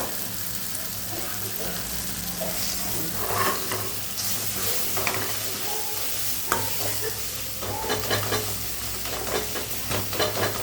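Steady sizzling and frying of sambar powder and spices in a pan with occasional stirring scrapes, close and continuous, with faint background noise.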